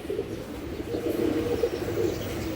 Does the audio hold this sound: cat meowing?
no